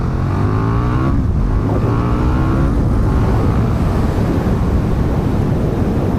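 A KTM 1290 Super Duke R motorcycle with its electronic controls switched off revs hard, the engine climbing and swelling into a loud, raw roar that fills the whole stretch on its own.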